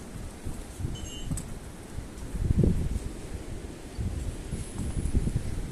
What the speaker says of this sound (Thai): พายุเข้าลมแรงมากเลยอ่ะ